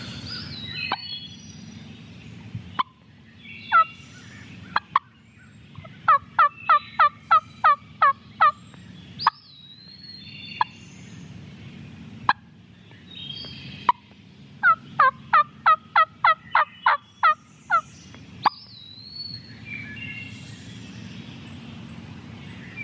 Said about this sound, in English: It must be flying down around him because he just gobbled twice.